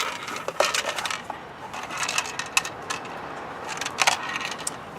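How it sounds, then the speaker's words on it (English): Small metal screws clink and rattle while being fitted back into a Jeep JK during a CB radio installation, a series of light, close metallic taps and jingles. "So now we'll put these screws back in."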